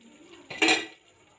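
Half a kilo of washed chicken goes into a hot karahi for chicken karahi, a brief clattering splash and hiss of metal and oil, close and fairly loud, lasting under half a second.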